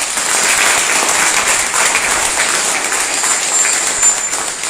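A seminar audience in a training hall in Noida breaks into steady, sustained applause, dense overlapping clapping that holds at a fairly loud level throughout without fading.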